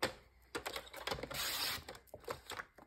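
Cardboard for a display stand is cut in a rapid series of close, crisp scoring and snipping sounds that swell into a brief continuous rasp midway, then return to sharp clicks, with no talking.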